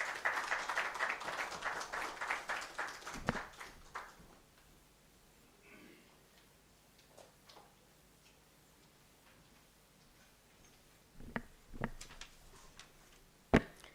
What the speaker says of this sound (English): give her another round of applause for that great speech